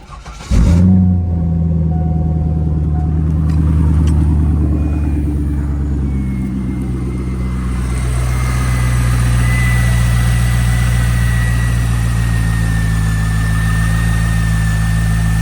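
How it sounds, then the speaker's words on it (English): A car engine cranks and catches, then settles into a steady, loud, close idle that rumbles evenly throughout, with no voices over it. "I really need this car to run, so start it up"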